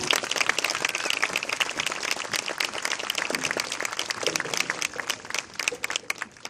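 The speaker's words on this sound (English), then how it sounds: "Join me in a round of applause showing our appreciation to the fine folks at the Indianapolis Fire Department." Dense, sustained applause from a large crowd at a Little League regional opening ceremony honors the Indianapolis Fire Department, a continuous roar of many hands clapping.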